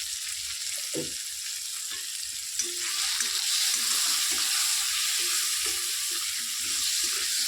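Tomato fries in a pan with cumin, chili and turmeric powder, a constant close hiss of sizzling oil punctuated by short clinks and scrapes of stirring, with no talking.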